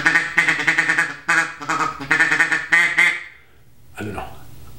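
A double reed duck call is blown in a rapid series of loud, nasal quacks in several bursts, imitating a duck, followed by a pause and a brief breathy sound.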